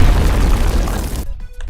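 A loud, deep video game car explosion booms with a rumbling blast that fills the first second and then cuts off abruptly.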